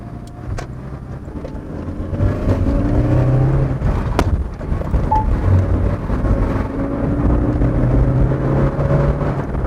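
A Toyota Celica's engine revs and hums under steady road and wind noise, likely heard from inside the moving car. It is loud and continuous, with the pitch rising and easing.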